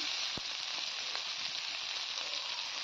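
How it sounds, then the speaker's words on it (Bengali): Taro stolons fry in a pan, producing a soft, steady sizzle that stays even throughout, with a couple of faint clicks from stirring. "লতিটা আমার 5 থেকে 6 মিনিট ভাজা হয়ে গেছে"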